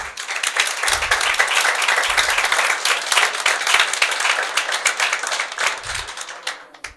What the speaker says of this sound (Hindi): भाई जो हैं वो जोरदार तालियां बजाएं।